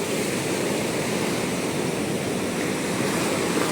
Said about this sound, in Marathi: हे बघा लाट मोठी आली